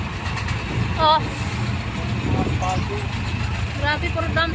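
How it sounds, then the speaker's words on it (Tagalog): Heavy truck engines idle and rumble in congested road traffic near Robinsons in Cainta, Rizal, where dump trucks fill the lanes; a steady low drone runs throughout with a few short horn-like toots, and people talk over it. "Grabe, puro dump truck guys."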